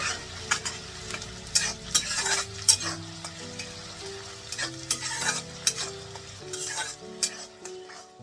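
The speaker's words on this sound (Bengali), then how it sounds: "গোটা আজওয়াইন দিয়ে এটা ফোড়ন দিয়ে আমি দিলাম 2টো পেঁয়াজ খুব কুচি কুচি করে কেটে আমি এটাকে ভেজে নেব।" Very finely chopped onions fry in oil tempered with whole ajwain for chole bhature, giving a soft continuous sizzle with repeated stirring scrapes, over faint tonal background music.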